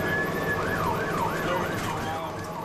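An ambulance siren wails in a steady rising-and-falling cycle, loud and close, over a constant background roar with no talking.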